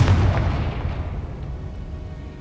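Confringo blasting spell going off in Hogwarts Legacy: a loud, close boom at the start with a deep rumbling tail that fades out over a couple of seconds.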